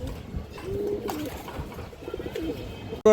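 Several pigeons coo steadily at a farm breeding coloured, racer and high-flyer pigeons, a low continuous murmur of overlapping calls that carries through the whole stretch with a sharp clatter at the very end.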